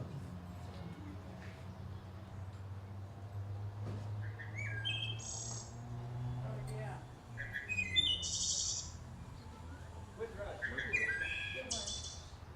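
Clear, flute-like wood thrush song rings out at intervals over a low steady hum, each a short liquid run of rising and falling notes.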